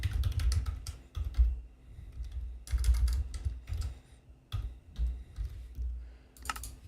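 Bursts of computer keyboard typing as a Minecraft command is entered, quick clattering keystrokes in several clusters separated by short pauses, close and clear with no talking.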